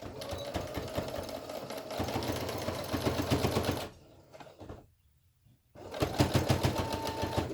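A sewing machine stitches a fabric face mask in close, steady bursts of rapid needle clatter, pausing briefly into near silence before running again.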